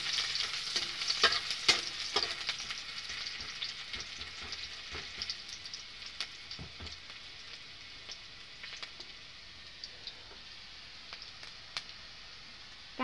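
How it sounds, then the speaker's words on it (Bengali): Chopped onions frying in hot oil for an egg chop filling, a bright crackling sizzle that is loudest at first and gradually settles, with scattered pops and stirring clicks throughout and no talking. "পেঁয়াজটা আমি ভাজে নিব।"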